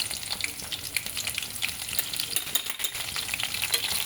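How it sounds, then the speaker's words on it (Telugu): Vegetable pieces frying in hot oil in a wok, a steady, dense sizzle and crackle close by that runs without a break, with no voices. "వేగాలండి ఇవన్నీ కూడా సన్నటి సగం మీద బ్రౌన్ కలర్లోకి కొద్దిగా వేగాలి"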